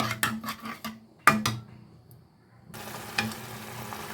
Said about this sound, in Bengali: তেঁতুলটাকেও কিন্তু আমি এক থেকে দুই মিনিট ভালো করে একটু টমেটোর সাথে কষিয়ে নিয়েছি